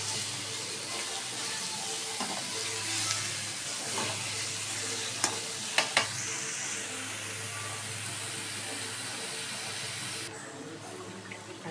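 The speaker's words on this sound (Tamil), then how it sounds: "தக்காளி போட்டு நல்லா வதக்கிக்கலாம்" Tomatoes sauté in a pan with onions, producing a soft steady sizzle broken by a few sharp spatula scrapes, fading quieter toward the end.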